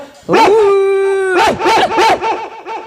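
A dog lets out a long, loud, drawn-out howl, then a run of rhythmic barks and yips, close by and with no voices over it.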